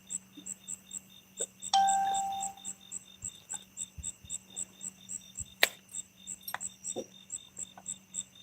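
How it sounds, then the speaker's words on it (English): A small fishing bite bell ringing from inside a pocket on a riverbank while catfishing, a brief jingle standing out over a steady chorus of crickets and insects. "I heard that bell ringing in my pocket. I thought I was getting a bite."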